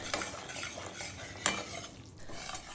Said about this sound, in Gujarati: જુઓ હવે ઘીમાં સરસ લોટ ફરી રહ્યો છે.